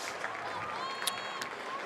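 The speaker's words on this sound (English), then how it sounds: "And good applause here from the home crowd." Home crowd applauding at a college football game, a diffuse wash of clapping and crowd noise that holds steady throughout the short stretch, with faint whistle-like tones above it.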